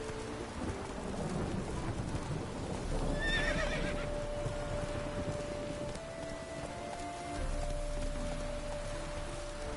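Horse ridden in The Witcher 3: Wild Hunt, whinnying amid steady rain and rumbling thunder, with hoofbeats under a continuous stormy wash.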